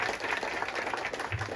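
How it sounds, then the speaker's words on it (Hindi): A congregation at a Hindi-speaking Christian prayer meeting claps loudly in praise, a dense, steady burst of applause that fills the short stretch without pause. "सारा आदमी में ये जोरदार ताली बजा के प्रभु की स्तुति करेंगे"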